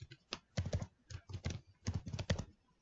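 Quiet, close keystrokes on a computer keyboard come in two short irregular runs of taps while a web address is typed into a browser.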